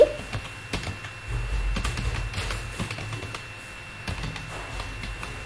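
Typing on a computer keyboard while entering an address into an MS Word bill voucher layout: a steady run of light, fast key clicks with a low background hum.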